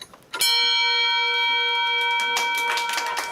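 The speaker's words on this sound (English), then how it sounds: "To this day, her mom still rings a bell every day." A single bell is struck sharply and rings on with a clear, sustained tone that slowly fades, close and loud, with no talking.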